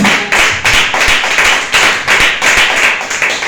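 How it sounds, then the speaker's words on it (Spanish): A church congregation claps in unison during a Spanish sermon, loud and close, a steady rhythmic beat of about three claps per second without pause. "Muy fuerte aplauso al Señor"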